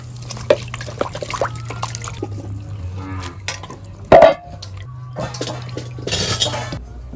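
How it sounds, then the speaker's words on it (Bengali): A little water is poured into a wok on the stove, a brief splash amid clinks of utensils and kitchen clatter over a low steady hum. "এখন অল্প একটু জল দিয়ে দিচ্ছি"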